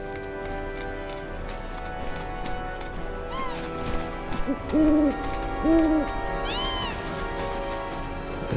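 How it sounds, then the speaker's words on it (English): Two distinct owl hoots, low and mellow, over a busy ambient backdrop with faint plodding hoofbeats, in the video game Final Fantasy VII Rebirth. "There's another owl."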